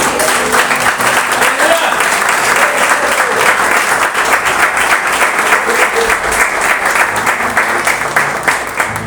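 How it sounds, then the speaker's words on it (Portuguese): A church congregation gives loud, sustained applause filling the room for several seconds, dense and continuous with a few voices mixed in. "dê uma boa salva de palmas para Jesus"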